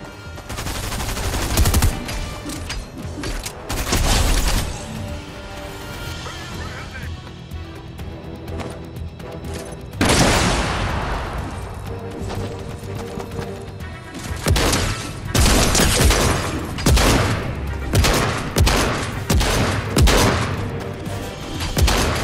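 Shotgun blasts and rapid gunfire fill a Fortnite match, with dense bursts of loud shots, crashes and impacts coming in clusters, interrupted by a quieter stretch, while a player talks over the action.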